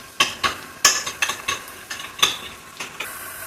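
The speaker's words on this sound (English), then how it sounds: "And now we're frying the gummies." Gummies sizzle and crackle frying in a hot pan, with a series of sharp bursts as pieces are stirred and turned, close and fairly quiet.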